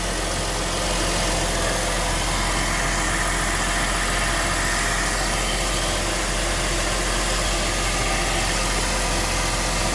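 A 2001 Porsche Boxster S engine idles steadily just after a cold start, a continuous low rumble with vibration held at a constant level throughout, close to the car and with no talking.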